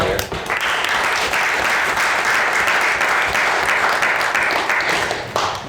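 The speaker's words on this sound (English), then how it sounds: "So I think a special round of applause goes to all of those who have travelled here." Loud, full audience round of applause at a debate on whether the UK has failed Northern Ireland, thick continuous clapping from a large crowd that holds steady before easing slightly at the end.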